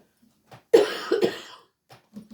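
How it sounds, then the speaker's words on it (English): A single person's harsh, throaty cough burst, fairly close and loud, with a couple of softer follow-up throat sounds, in an otherwise quiet room. "every bloody day I have to apologise for coughing"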